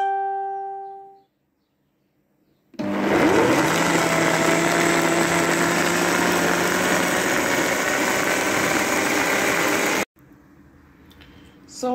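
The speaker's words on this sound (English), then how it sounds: "Then I'm going to blend it." Electric blender running steadily for about seven seconds as it grinds peeled beans with a little water for akara batter, a loud continuous whir that starts abruptly and cuts off, with quieter kitchen sounds before and after.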